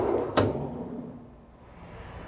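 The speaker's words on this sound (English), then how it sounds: "go ahead and open up your vault door and pull out your CDU" A metal cash dispenser unit slides out of a Genmega ATM vault with one sharp clack, followed by a soft fading rumble and quiet room tone.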